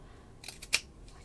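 Scissors trim T-shirt fabric for a flower craft in a few quick, faint snips, the last one the sharpest, in a quiet room.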